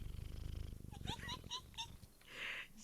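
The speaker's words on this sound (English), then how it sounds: "kitty purrs" A pet cat purrs with a steady, low, pulsing rumble close by, which then gives way to softer breathy and voiced sounds near the end.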